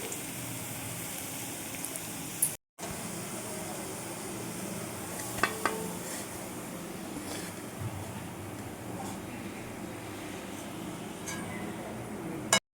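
Onion sizzles in very hot oil while a chicken biryani is being cooked, a soft steady frying hiss that lasts throughout. It is broken by a few utensil clinks and a brief cut to silence, with quiet speech in places.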